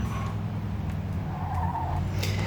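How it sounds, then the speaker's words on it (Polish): A car skids and fishtails in the video game Mafia II Definitive Edition, a steady low engine roar with tire scrubbing and a brief squeal near the end, loud and continuous with no talk. "Potrafi ten samochód naprawdę zarzucać."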